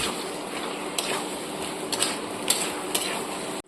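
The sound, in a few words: cauliflower and potato being sautéed in a pan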